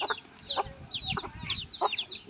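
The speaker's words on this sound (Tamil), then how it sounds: "இதுதான் வேகமான சேவல்." A rooster clucks in quick, close bursts, several short raspy calls in a row over a faint outdoor background.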